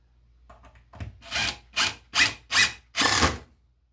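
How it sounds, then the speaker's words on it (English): A screw driven into wood on a homemade shaving horse, heard as five close, loud bursts of grinding power-driver whir that grow in length, with the last bursting longest, each separated by brief pauses. "I have to push that down while I'm putting the screw in, because the screw wants to jack it apart"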